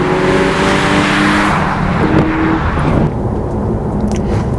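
A sports car engine under acceleration, with intake sound routed through a small valve behind the dashboard that opens with the throttle, roars loud and steady throughout with no talk over it.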